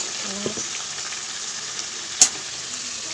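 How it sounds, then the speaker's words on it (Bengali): Fritters and fish frying in hot oil, a steady close sizzle with a few soft clicks and one sharp utensil tap. "বড়াগুলো দিয়ে দিলাম এপাশ ভাজা হয়ে গেলে উঠিয়ে নেব"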